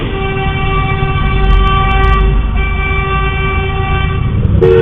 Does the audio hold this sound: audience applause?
no